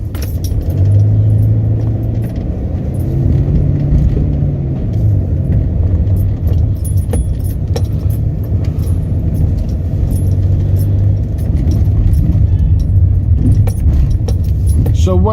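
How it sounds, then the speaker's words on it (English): Inside a moving Mercedes Viano minibus, a steady low engine and road rumble fills the cabin throughout, with some light rattling and jingling over it. "I drive a Mercedes Viano minibus"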